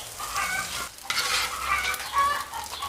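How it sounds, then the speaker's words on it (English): Chickens cluck steadily on an urban farm with a short burst of crowing, the fowl sounding moderately close and continuous, no talking heard. "Those chickens, hey Bale."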